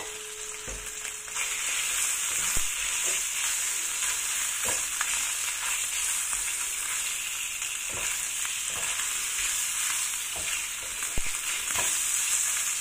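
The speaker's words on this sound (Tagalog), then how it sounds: "i-fry lang muna natin yung karne" Marinated meat fries in a pan with ginger and garlic, a steady loud sizzle running throughout with occasional stirring scrapes and clinks of a utensil, no voices.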